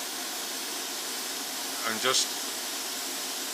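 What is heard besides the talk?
airbrush spraying thinned paint on Tamiya T-55A model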